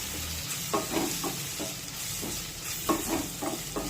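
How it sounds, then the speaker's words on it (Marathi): Spices sautéed in oil on a low flame for a sprouted moth bean usal, a constant sizzle broken by rhythmic scraping stirs from a spoon against the pan. "आणि हे सर्व मसाले तेलामध्ये व्यवस्थित परतून घ्यायचे"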